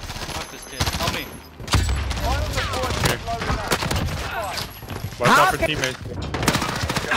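Dense gunfire fills a first-person shooter video game match, loud overlapping shots and bursts running continuously while players talk over it.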